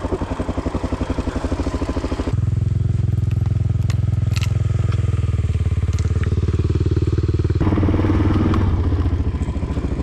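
Motorcycle engine while riding on a motocamping trip along the TET, a loud throbbing beat that changes tone sharply as the rider shifts, with rough clattering over the terrain and no talk.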